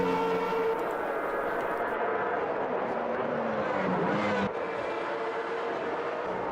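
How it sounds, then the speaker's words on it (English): A steady, droning Formula Classic Gen 4 race car engine in Automobilista 2 at Cascais roars continuously at close range, its pitch shifting slightly, with a brief drop in intensity near the end. "so difficult not to be silent when in the presence of an engine noise as great as that."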